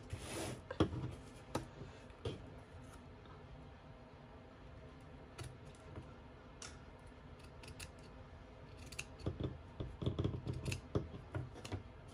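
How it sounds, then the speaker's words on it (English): Quiet, close snips and crisp cutting clicks from scissors trimming the edge of a handmade hardcover Christmas journal cover, coming in irregular bursts with soft handling rustle between them and no talking. "I'm just trimming up the edge there a little bit."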